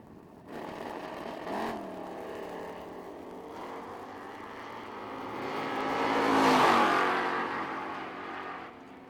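Drag racing cars launch side by side at the Lone Star Summer Shootout, including a 1969 Camaro running a throttle stop, with engines revving, building to a loud whining peak, then fading as they pull away.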